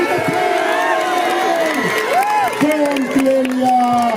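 A loud crowd cheers and applauds at a Hind Kesari wrestling match in India, with sustained shouting and whistles filling the scene while an announcer's voice speaks over the noise.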